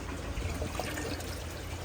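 Clean water pumped from a black tote into a 500-gallon goldfish pond, a steady low trickling and gurgling flow, continuous and fairly quiet with no voices.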